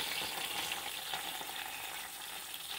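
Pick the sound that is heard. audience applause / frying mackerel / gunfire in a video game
frying mackerel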